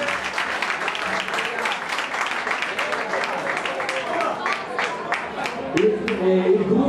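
Scattered crowd applause at an outdoor Vespa scooter club gathering, with individual claps audible amid the group, while someone speaks over the clapping and the talking grows louder near the end.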